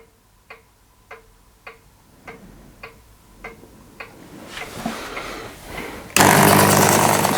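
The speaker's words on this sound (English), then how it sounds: "So let's get the reaming done." A machine reaming a drilled hole in a small model engine part spins with a steady, rhythmic ticking, then rises into a harsh grinding whir that ends in a loud, sustained cutting roar.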